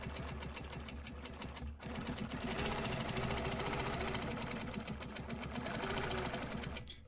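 Sewing machine stitching half of a stencil design of small leaves, a steady fast mechanical whir with rapid needle clatter running continuously, briefly pausing near the two-second mark before resuming, close and loud.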